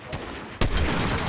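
A single loud Fortnite sniper rifle shot cracks sharply about halfway through, then leaves a lingering echo over quieter background battle noise.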